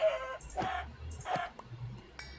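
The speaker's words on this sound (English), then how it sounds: "So if I attack a chicken with a stick, yep, it becomes an angry chicken." Chickens clucking in the video game Minecraft, short squawky clucks repeating in a loose rhythm over light background game noise.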